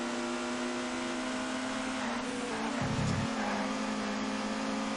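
Touring car engine in TOCA 2 Touring Cars, a steady high-pitched drone at constant throttle, then a brief lift and bump over a curb before the whine resumes, loud and unbroken with no talk.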